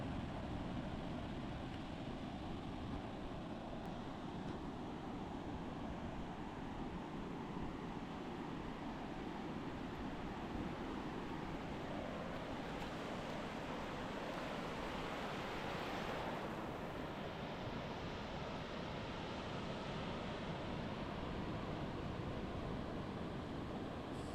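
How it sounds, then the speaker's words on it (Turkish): Sea waves washing onto a beach, a steady, full rush of surf heard up close, with a swell of breaking water around the middle and wind noise over the microphone throughout. "Hem de dalgaları yakından göstermek istedim size böyle hissetmeniz açısından."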